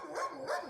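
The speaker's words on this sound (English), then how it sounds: "Not listening to the dog barking." A dog barks twice at a distance, two short faint yelps at the edge of a small Lithuanian town at sunset, with quiet background between them.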